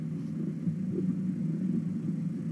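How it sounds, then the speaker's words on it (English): A low, steady rumbling purr, continuous and close, with a soft pulsing texture and no talking. "I don't know if you can hear him, but he's purring."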